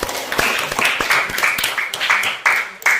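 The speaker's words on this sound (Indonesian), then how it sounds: "Tepuk tangan" Applause after a closing talk in an Indonesian Islamic education session, heard as a short burst of uneven, fairly close hand claps from a small group, with some voices mixed in.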